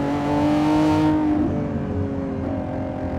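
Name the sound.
2025 Lamborghini Revuelto engine revving on canyon drive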